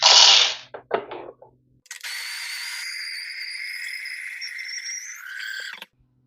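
Freshly roasted coffee beans are ground fine for espresso: a brief mechanical rattle and clicks come first, then a steady whirring grind runs for about four seconds and stops abruptly.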